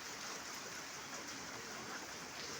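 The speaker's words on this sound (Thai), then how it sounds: "ฝนก็ยังตกลงมาอีกครับ" Heavy rain pours steadily during the 2024 flood in Hat Yai, Thailand, a dense, even hiss of falling water that fills the whole moment with no break.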